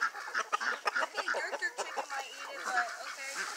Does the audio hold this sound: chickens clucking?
yes